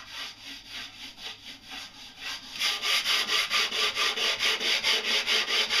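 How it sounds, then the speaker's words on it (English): Fine 1200-grit sandpaper is rubbed lightly over a wood finish in steady back-and-forth strokes, a soft rhythmic scratching close by that grows louder and brisker halfway through; no talking. "with 1200 grit sandpaper. What I'll do with this is just go over it very lightly."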